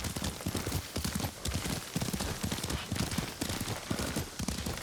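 Horse hooves clip-clopping in a steady galloping rhythm while riding in the Ghost of Tsushima video game, close and continuous throughout with no talk over them.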